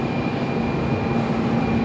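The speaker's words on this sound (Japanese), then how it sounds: "あ、荒尾行きの快速列車ですね。" A rapid train to Arao rolls along a platform at Hakata station, a continuous loud rumble of wheels and rail noise with a faint high tone running through it.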